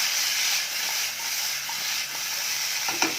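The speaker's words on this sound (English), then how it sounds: "And then what we do now is just saute them until really soft." Shrimp paste and tomato being sautéed in a pan for Indonesian sambal ulek, a steady close-up sizzle and hiss with a few soft stirring scrapes near the end, no voices.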